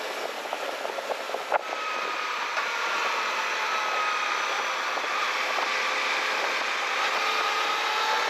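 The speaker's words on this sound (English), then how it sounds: "The exhaust isn't particularly" A Suzuki V-Strom 1050 DE motorcycle drones steadily while riding, its exhaust blended into a constant broad wind-rushed roar that stays even throughout, with a few brief clicks early on.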